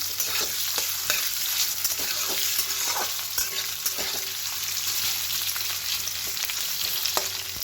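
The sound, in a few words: frying potatoes in oil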